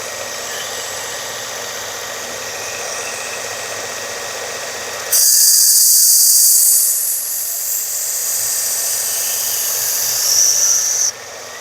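A Work Sharp belt sharpener runs with a steady motor hum, then the Rosecraft Otter Creek Barlow knife blade meets the belt for several seconds of loud, bright grinding that eases and surges before stopping.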